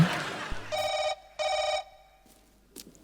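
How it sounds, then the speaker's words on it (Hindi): A telephone bell rings in two long bursts with a pause between, loud and close, a short thud just before it and quiet room sound after; no talk over the ringing. "अपना फोन आ रहा है।"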